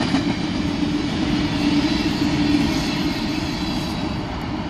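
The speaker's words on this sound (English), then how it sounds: "Oh, it was a long train right there." A long BNSF/NS covered hopper freight train rolls past in Bakersfield, California, a loud, steady rumble of railcars and wheels close by, constant throughout with no talking.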